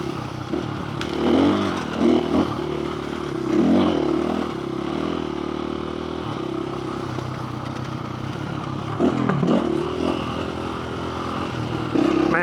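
A dirt bike motorcycle ridden along open desert trails in the Arizona backcountry, its engine droning steadily close by with repeated revving surges, rattles and scrapes from the rough ground.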